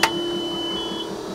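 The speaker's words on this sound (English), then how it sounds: "That is the sound of a pre-luber." A diesel engine oil pre-luber pump on a 46-foot Hylas sailboat runs with a faint steady electric whine after a short click at the start, close and alone.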